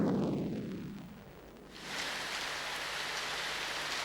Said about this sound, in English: The driving rain will dampen the flames.